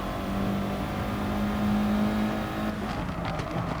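Race car engine at steady high revs in GT Sport, a loud close droning whine held through a corner, then a slight shift in pitch.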